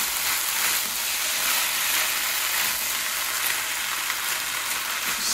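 Scallions sizzle in hot oil over high heat in a pork stir fry: a loud, dense, continuous crackling hiss with no speech.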